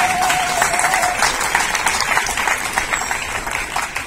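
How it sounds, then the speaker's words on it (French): An audience applauds a special guest at a tribute gathering, with dense, steady clapping that stays loud for the whole stretch. "je souhaiterais que vous l'applaudissiez"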